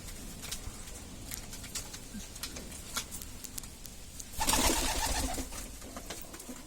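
Pigeons coo softly near a coop door with scattered wing flaps and pecking taps, then a brief burst of fluttering wings rises and fades.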